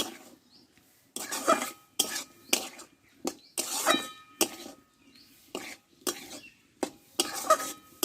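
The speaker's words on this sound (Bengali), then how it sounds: "এবার পটল আর পেঁপেটা আমি দিয়ে দেবো এতে একসঙ্গে ভালো করে কষে নিব" Pointed gourd and papaya being stir-fried with mustard-poppy spice paste in a pan, with repeated scraping and clinking strokes of a spatula against metal in irregular bursts, fairly close and moderately loud, no talking.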